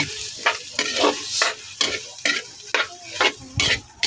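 Octopus is stirred in a hot pan, giving repeated rhythmic bursts of sharp sizzling and scraping about twice a second over a low background hiss, close and fairly loud, with no voices.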